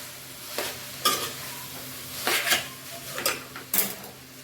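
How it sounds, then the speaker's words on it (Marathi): Chicken noodles are tossed and mixed in a pan, with repeated scraping, clattering strokes of a utensil against the metal, some louder than others, heard close and alone without talk. "ते चांगलं मिक्स करून घेते."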